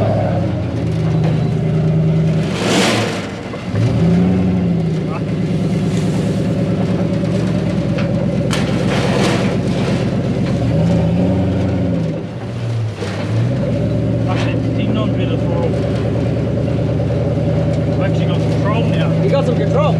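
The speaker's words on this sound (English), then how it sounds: "as soon as you give it a few revs" A Toyota 1UZ VVTi V8 in a 4x4 offroad buggy idles with a deep, steady drone and rises in a couple of revs, while people talk nearby throughout.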